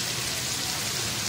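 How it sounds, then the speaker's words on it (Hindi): Water poured into a pot of browned beef, a steady, dense hiss and splash that stays constant and fairly loud throughout, with no voices. "अब मैंने इसमें इतना पानी डाल देना है"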